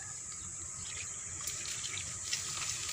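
A thin, weak stream of water runs steadily from a garden tap in the early morning, a constant soft hiss and trickle heard up close with no one talking.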